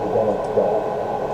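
Speech audio heavily distorted by a fast DFT-based black-box adversarial attack at its strongest setting, giving a short, warbling, garbled burst that sounds watery and radio-like.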